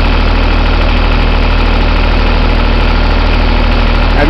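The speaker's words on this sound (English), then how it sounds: "I'm going to mow me some grass" A lawn mower engine idling with the clutch in, a loud, close, steady low rumble with a fast rhythmic chug and rattling vibration, continuous throughout.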